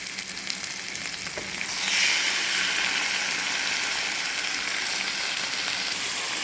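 Liver and longganisa sauté in a pan with onion and ginger, giving a loud, close, continuous sizzle that swells after the first couple of seconds and holds steady, with no voices.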